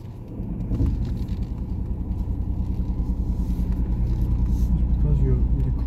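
A learner driver's car pulls away on a test route around Alvaston, Derby, its engine a steady low rumble that slowly builds as it moves off, with people talking over it throughout.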